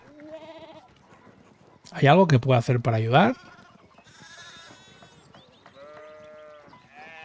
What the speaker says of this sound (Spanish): uno de los rieles de la cerca se ha caído y las ovejas han empezado a saltarlo